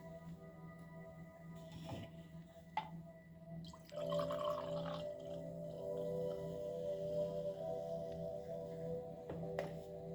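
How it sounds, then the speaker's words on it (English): Perrier Energize sparkling water being poured into a glass, a thin steady trickle with fizzing and a few light clinks, close and quiet, with no talk. "I'm going to pour some of this Perrier into a glass."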